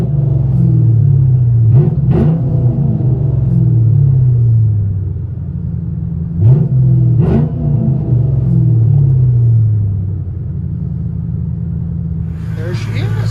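1995 Lincoln Mark 8 with true dual exhaust and boom pipes, heard from inside the cabin: a steady deep idle rumble with a few short revs blipping up and settling back, a voice speaking briefly near the end.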